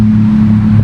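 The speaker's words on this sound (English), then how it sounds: "These loud traffic" Road traffic near an old cemetery in Galveston, Texas, a loud steady low engine drone from a passing vehicle, close and continuous for under a second.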